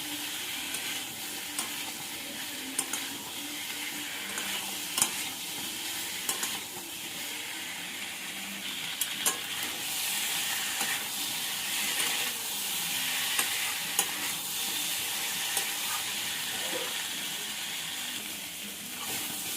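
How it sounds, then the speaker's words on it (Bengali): Boiled green jackfruit is sautéed with spices in a pan, giving a steady soft sizzle with scattered spoon scrapes and clicks throughout, close but fairly quiet, no talking. "এঁচড়গুলো মশলার সঙ্গে ভালো করে কষিয়ে নেব।"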